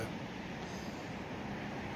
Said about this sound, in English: heard a couple of trains pass by.